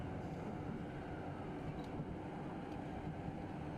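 A train in the simulator Train Drive ATS 2 slowing down for a sharp corner, giving a low steady rumble of wheels and motor that stays even and moderately quiet, with no voices.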